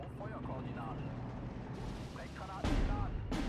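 Mortar fire in Steel Division 2, heard as dull booming impacts and thuds against a rumbling battlefield background, with one heavier blast near the end and a voice talking over it.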